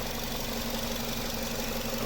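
A 2008 Nissan Qashqai+2 Tekna with a 2.0 petrol engine runs steadily at idle, a close, even hum with a faint tapping texture and no talk over it.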